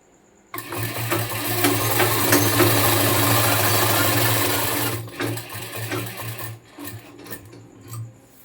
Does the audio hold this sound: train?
no